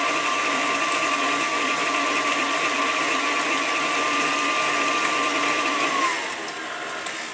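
Electric hand mixer beats apple butter spice cake batter at slow speed, a loud, steady whirring hum that holds for several seconds and then drops in pitch near the end.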